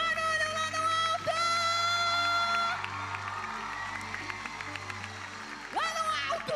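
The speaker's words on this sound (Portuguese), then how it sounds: "Vamos aplaudir o único que é digno!" Church audience applauding and cheering: a loud swell of claps, shouts and whoops that eases midway, then surges again near the end, with tonal music or voices running through.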